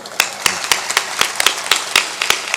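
A scattered few hands clapping half-heartedly at a devotional spiritual discourse, uneven claps spaced through the moment, moderately close and with no steady rhythm.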